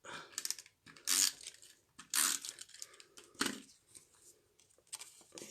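A tape roller runs over paper while a Stampin' Up birthday card is assembled, producing several short, crisp tearing and crackling strokes separated by quiet pauses, close and fairly soft.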